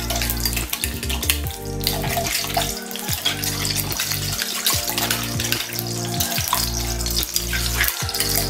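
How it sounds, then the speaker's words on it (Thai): Vegetable oil heating in a hot wok while Thai pork stir-fry with curry paste is prepared, giving a steady sizzling, hissing frying sound close by, loud and continuous with low rumbling hum beneath and no talking. "พอกระทะร้อนเราจะใส่น้ำมันพืชลงไปหน่อยครับ"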